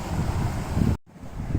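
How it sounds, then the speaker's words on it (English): Ocean waves crash on the shore at a beach in Kerala, a loud, broad rushing roar with wind buffeting the microphone, briefly cutting out before the surf noise resumes. "the harmony of the waves that crashes at the shore"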